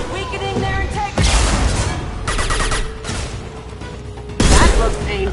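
Loud bursts of gunfire and impacts in a Mass Effect 2 firefight, with sharp volleys around one and four and a half seconds over a steady combat din and game voices.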